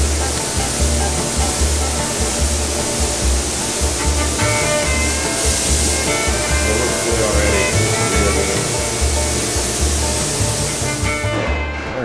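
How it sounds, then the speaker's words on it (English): A spray gun hisses continuously, spraying clear coat onto a truck camper shell in a loud, steady broadband spray, with a low mechanical pulsing underneath, ending in a brief drop. "So I'm going to spray the top first and then have the sides be as glossy as possible."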